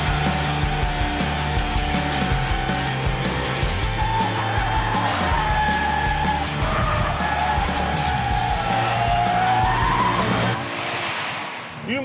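A Toyota GT86 on deliberately low-grip tyres slides tail-out at around 30 mph, its tyres skidding in a long continuous squeal over a steady engine drone, close and loud, ending abruptly.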